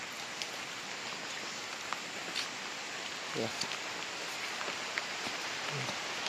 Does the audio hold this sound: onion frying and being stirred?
no